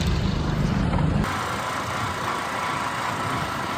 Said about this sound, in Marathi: मी धरतो गाडी चालू कर